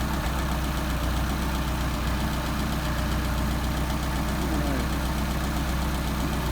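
Car engine fitted with a Solex 44PHH carburetor idling very low, a steady close rumble with an even, slightly lumpy pulsing beat and no voices.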